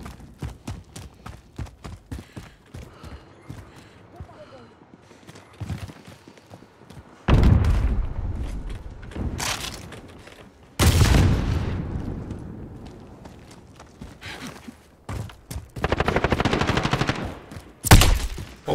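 Video game gunfire rattles out in rapid bursts and single shots, with several loud, heavy blasts and booming volleys between lighter clicks and footsteps, near and punchy throughout.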